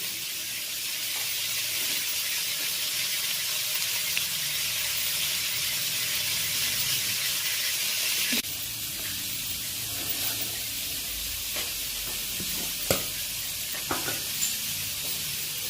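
Potatoes sizzle steadily in a hot pan with a little salt, a loud constant frying hiss with occasional soft stirring clicks, no talking.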